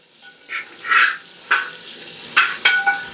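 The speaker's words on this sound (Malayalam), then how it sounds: "ചെറിയ ഉള്ളി ഇട്ട് കൊടുത്തിട്ട് നമുക്ക് നല്ലപോലെ ഇളക്കി കൊടുക്കാം." Small shallots sizzle and get stirred in a pan while cooking clams, with bursts of scraping and clattering scattered through a quiet low hiss, close by and with no talk.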